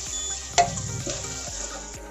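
Baby corn and mixed vegetables sizzle in a hot pan, with a soft steady crackle and a sharp clatter as they are stirred or tossed, all close and without speech.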